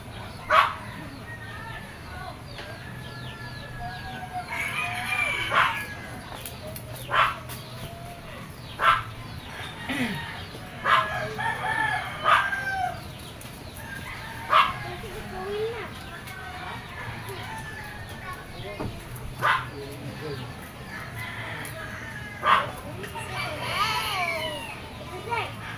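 A dog barks in short, sharp bursts repeated throughout, mid-distance and fairly loud, over a busy background of children playing and talking and people speaking.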